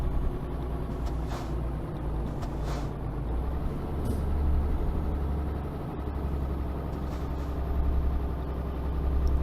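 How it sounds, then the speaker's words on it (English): Heavy road traffic on a German motorway with trucks passing, a steady loud low rumble of engines and tyres with a brief air-brake hiss, heard continuously from close by. "yeah, it's quite heavy traffic."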